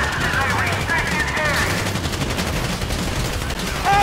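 Rapid bursts of automatic gunfire in a Grand Theft Auto V shootout, sustained rattling shots with a warbling siren-like tone over them early on, fairly loud and continuous.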